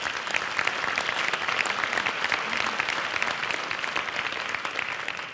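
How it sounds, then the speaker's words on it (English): Audience at a University of Mississippi Hall of Fame ceremony clapping steadily, a dense, sustained round of applause heard from within the room with no talk over it. "Let's give them another round of applause."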